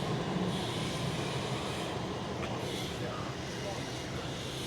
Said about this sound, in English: I'm on the 16 tram to Kew